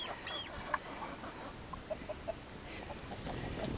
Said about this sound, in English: Black and white one is a newer rooster that we hatched out a couple months ago.